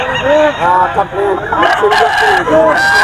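Adult roosters crow again and again at a busy Philippine poultry market, the calls loud and close and overlapping one another with a few clucks in between.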